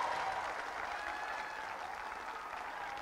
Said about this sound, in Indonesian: tepuk tangan yang memilih beliau-beliau